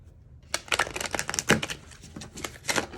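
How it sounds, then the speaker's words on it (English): Cards are riffled and shuffled in quick bursts of crisp, papery flutters and taps, close and fairly quiet. "we're going to shuffle the deck again"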